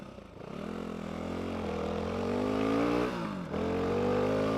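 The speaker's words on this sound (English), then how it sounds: "I'm riding an off-road bike" Off-road dirt bike engine held at a steady drone while riding a trail, rising slightly in pitch with a brief dip in revs near the end, close and continuous with no talk.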